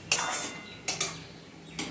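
A spoon stirs curry in a cooking pot, knocking against the metal in three short clanks separated by quiet pauses.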